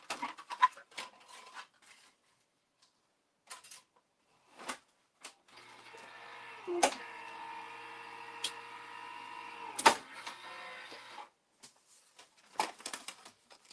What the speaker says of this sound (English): I'm going to go ahead and die cut that